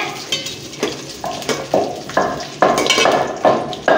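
Frying in a pan while daal chawal is cooked in a home kitchen, with a low sizzle beneath repeated sharp clinks and scrapes of a utensil stirring against the pan, close up.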